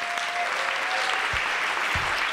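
An audience at a lecture in Cooper Union's hall applauds, producing a sustained, even patter of many hands clapping, with a couple of sharp low thumps partway through.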